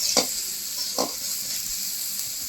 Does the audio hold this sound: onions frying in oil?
yes